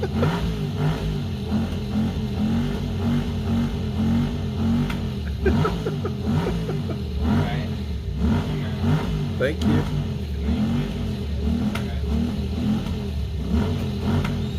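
A $500 motorcycle, recently brought back to running after about two hours of repair work, idles and revs steadily and loudly at close range, with brief speech heard over the engine.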